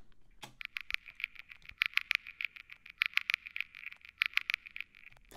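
A fast, crisp percussive pattern of clicky ticks and shaker-like hits repeats steadily, bright and dry with little low end.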